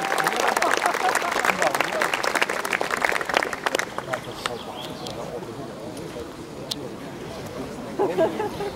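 Crowd applause for the six best-placed racers at a kart-race prize ceremony, loud, dense clapping at first that thins and fades, with murmuring voices and a few scattered claps.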